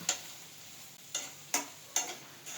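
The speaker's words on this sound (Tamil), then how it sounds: "இப்போ வந்து கொஞ்ச நேரம் வதக்கிக்கலாம்" Soya manchurian sautés in a pan, heard as a faint sizzle under four sharp, separate stirring scrapes spaced about half a second to a second apart.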